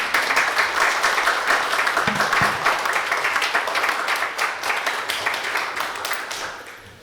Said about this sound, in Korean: 우리 김정성 교사님 모실 때 큰 박수로 환영해 주길 바랍니다